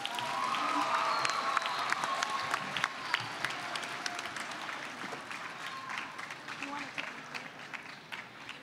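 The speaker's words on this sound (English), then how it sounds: "Let's give him another round of applause" A crowd at a Latino youth conference applauds an art contest winner, with continuous, moderately distant clapping and some cheering. Sharp individual claps stand out above the mass of sound, and faint voices can be heard beneath it.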